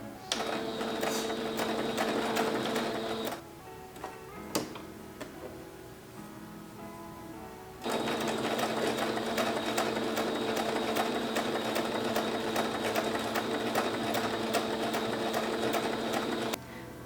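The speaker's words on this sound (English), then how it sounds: "Don't forget to backstitch to finish the seam off." A home sewing machine backstitches to finish a seam on a thrifted garment, running in a loud, steady mechanical buzz. It stops for several seconds, with a few soft clicks and a knock in the pause, then runs again at full speed.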